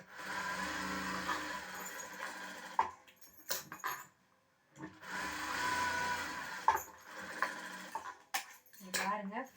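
A sewing machine runs in two long stitching bursts while making a double seam on a blouse, its steady whirring rattle broken by short pauses and clicks, with a voice speaking between runs.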